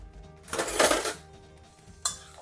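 A metal spoon scrapes and clinks around a bowl of garlic sauce for about a second, followed by a single sharper clink after a short pause.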